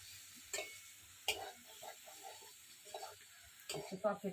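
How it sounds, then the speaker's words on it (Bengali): Quiet sizzling of potatoes and cauliflower in a pan, with occasional scraping stirs, a few louder clinks and scrapes spaced irregularly. "আলু আর কপিটা দিয়ে সুন্দর করে এবার কষাই নেব।"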